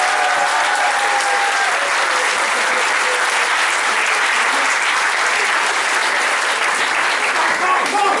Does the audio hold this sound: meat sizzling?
no